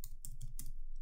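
Keys clatter on a computer keyboard in a short quick burst of about four taps, faint and close, over a steady low background hum.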